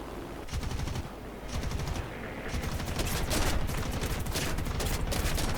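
Rapid bursts of cannon fire come from a helicopter's Gatling-style 20mm cannon in the War Thunder combat game, loud, dense and continuous, with brief pauses between volleys and no talk over it.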